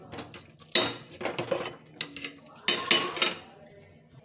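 A spoon stirs mixed khichdi with garam masala and coriander leaves in a metal pot, producing bursts of scraping and clinking against the sides, with two louder clusters of clatter separated by quieter scrapes.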